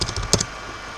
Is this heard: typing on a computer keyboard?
yes